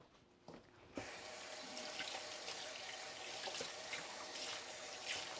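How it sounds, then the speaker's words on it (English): Hands are washed under a running kitchen tap: near-silence, then the water switches on and streams steadily into the sink with small splashes as the hands move. "Wash my hands at the same time."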